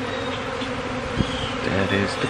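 Bees buzz and fly around a hand holding a queen bee, a dense continuous drone close by, with a person talking over it.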